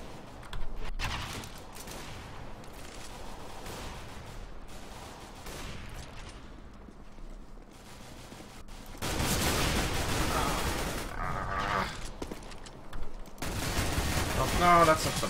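Gunfire in the video game CSGO: scattered shots in a quieter stretch, then loud sustained rapid firing and bursts, with someone talking at times.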